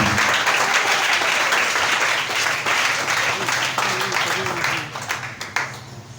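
A church congregation applauds and cheers in praise of Jesus during a worship service: sustained, dense clapping from many people that gradually thins and fades toward the end.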